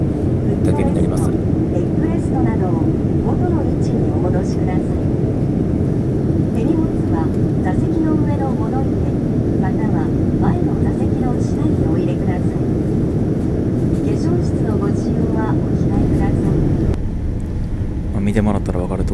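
Loud, steady airplane cabin roar on an ANA late-night flight nearing Bangkok, a constant broadband engine and air rush under intermittent talk nearby.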